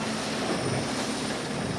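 A helicopter hovers above a sailing race fleet, giving a steady, loud rotor-and-engine drone that fills the short stretch without a break.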